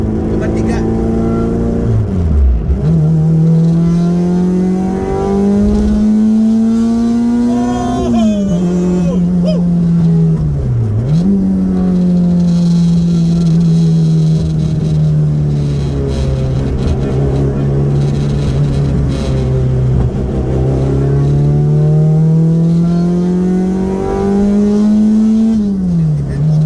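Naturally aspirated front-wheel-drive Honda Civic EG6 engine revving hard while driving, pitch climbing and dropping through several gear changes, loud and close throughout, with people talking over it.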